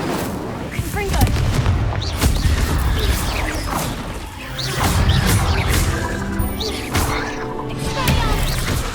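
Confringo explosive spells and combat blasts in Hogwarts Legacy, a busy stretch of repeated booms, crashes and impacts with grunting voices over the clamour.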